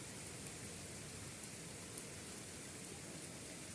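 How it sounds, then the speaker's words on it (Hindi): Steady light drizzle falling continuously during days of monsoon rain, an even, soft hiss of raindrops on surfaces with a few faint drip ticks and no voices. "इसी तरह से लगातार बारिश हो रही है।"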